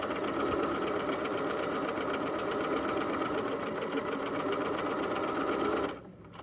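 A sewing machine stitching a lanyard seam runs in a fast, even, continuous whir with rapid needle pulses, close up, then stops abruptly near the end.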